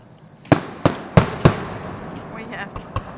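Fireworks go off at a Hancock display, with four sharp loud bangs in quick succession, then fainter crackles and pops as people talk in the background.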